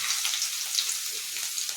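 Garlic hitting hot reused deep-fry oil for a South Indian chicken tempering, a bright continuous sizzle with crackling pops, close and steady, with no talking.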